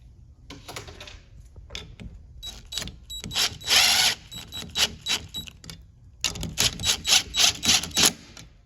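A power tool tightens bolts on jetski handlebars in short, buzzing bursts with rattling ratchet-like clicks, close and fairly loud, separated by brief pauses.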